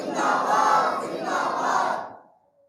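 A large religious gathering of men chanting a slogan in unison, a loud two-part roar from a crowd that swells and then trails off to silence.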